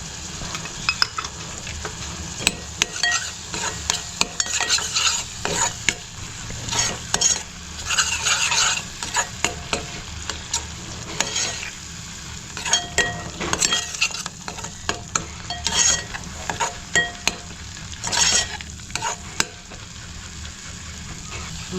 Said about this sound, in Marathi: मसाला मस्त फ्राय झालाय.